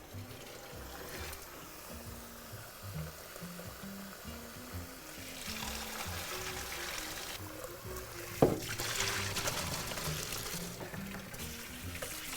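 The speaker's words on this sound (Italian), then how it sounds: "apro l'acqua fredda, così blocco la cottura" Cold tap water pours and splashes steadily over freshly drained pasta in a colander, a continuous hissing rush that swells partway through, with a brief clatter near the end.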